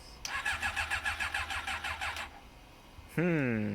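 A motorcycle with a four-year-old battery that has sat unused, choke on and lights on, cranks sluggishly in a long rhythmic run of strained turns. After a short pause the engine catches and settles into a loud, steady run.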